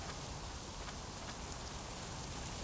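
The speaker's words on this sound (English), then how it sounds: "raining really hard" Heavy rain pours steadily in a survival video game, a dense, even hiss of falling drops with no pauses and no voices over it.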